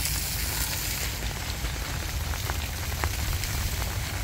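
Rain falls near outdoor fountains in northwestern New Mexico, a dense steady hiss with scattered sharper droplet taps, loud and close, with no voices.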